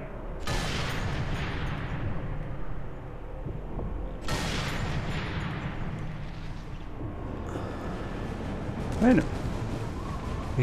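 Several loud bursts of gunfire from the video game Sniper Elite 3, each with a sharp onset and a long decaying tail, over a steady background hum.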